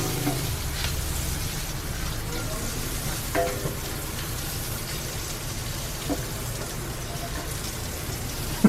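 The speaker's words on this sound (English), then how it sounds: "So I'm going to fry up a little bit of garlic and" Garlic frying in preheated olive oil gives a steady, close sizzle with light crackle throughout, a few small pops and a faint stirring scrape, with no talk over it.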